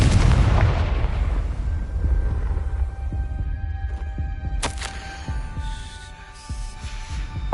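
Confringo fire spell blasts boom in the video game Hogwarts Legacy, a heavy low explosion opening loudly and then rumbling and fading under a steady game hum, with a few sharper hits later.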